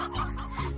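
Chickens clucking in the farming video game Slime Rancher, a short burst of close, steady fowl calls with no talk over it.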